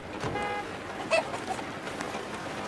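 A car horn sounds from down inside a ravine, a faint, distant short honk with a thin steady tone rising briefly above a noisy outdoor background.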